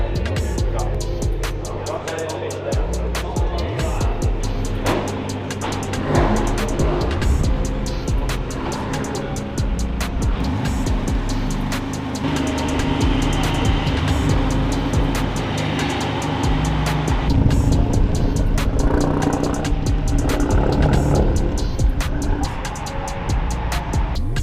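An Audi TT race car heads out onboard at the Silverstone GP circuit, engine roaring loudly with rising and falling revs through gearchanges, wind and tyre noise filling the cabin throughout.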